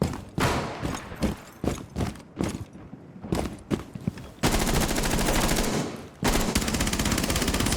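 MP5 submachine gun fire in a video game: quick sporadic bursts and single shots early on, then two long sustained volleys of rapid automatic fire, loud and close.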